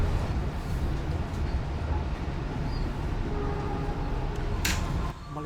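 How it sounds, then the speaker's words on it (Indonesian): An additional Gambir–Jogja passenger train runs straight through Jatibarang station without stopping, its steady rumble heavy and close throughout, with a short bright burst near the end. "Saat ini kereta api tambahan Gambir Jogja melintas langsung stasiun Jatibarang"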